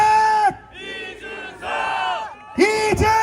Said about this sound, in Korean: 이준석을 연호해 주십시오.